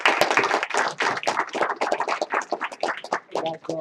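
A small group of people claps at a motivational bootcamp gathering, with a quick run of sharp, irregular handclaps close by that rise and fall in bursts rather than forming a dense roar.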